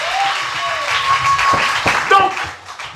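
Church congregation clapping in acclamation of the Lord, a burst of hand claps and cheering voices rising together, fairly close and loud over a sustained tone.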